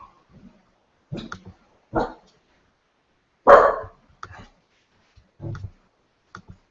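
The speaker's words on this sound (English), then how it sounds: "Sorry, it's my dog barking." A few scattered, short dog barks and yips, some louder than others, with quiet gaps between them indoors.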